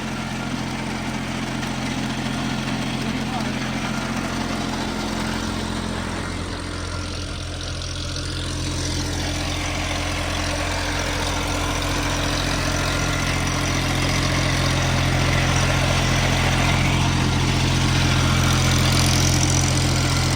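A new tractor's engine runs steadily while driving a rotary tiller through wet, marshy soil, a loud continuous low rumble and hum holding an even, unstrained tone throughout with no voices.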